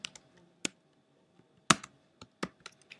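Code being typed on a computer keyboard while building an iPhone tic-tac-toe game, sparse quiet clicky keystrokes in short irregular clusters separated by brief pauses.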